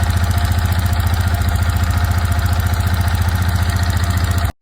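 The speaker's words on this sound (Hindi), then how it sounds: "इसके इंजन से आवाज़ आ रही थी जो कि कुछ" A Yamaha MT-15 V2 BS6 motorcycle with an engine noise problem idles up close, its steady rapid thumping pulse running unbroken and loud for several seconds before cutting off abruptly.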